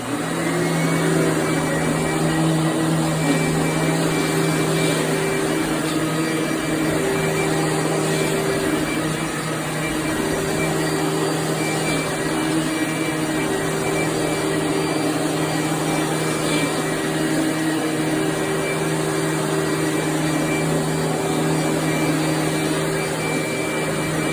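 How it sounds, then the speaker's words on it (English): A vacuum running steadily on a hardwood floor during professional floor cleaning, drawing up scrub water with a loud, constant whine and drone that holds without pause and has no talk over it. "Now we're going to turn the vacuum on."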